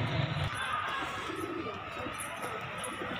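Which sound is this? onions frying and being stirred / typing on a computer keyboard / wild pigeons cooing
wild pigeons cooing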